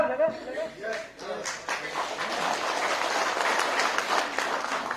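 Audience applause at a political foundation day speech, a crowd clapping that builds from scattered claps into steady loud applause, with a voice speaking over the start.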